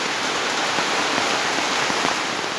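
Rain pours steadily outdoors behind a house during the rainy season, a dense, even hiss of falling water close by with no voices.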